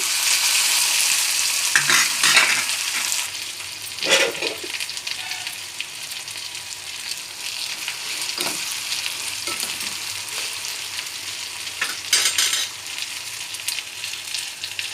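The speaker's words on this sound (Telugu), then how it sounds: "ఇవన్నీ ఒకసారి బాగా వేగాలి బాగా కదుపుకుందాం" Ivy gourd pieces fry in a pan for chutney, with a constant loud sizzle and occasional scraping bursts as a spatula stirs them, heard close with no talk.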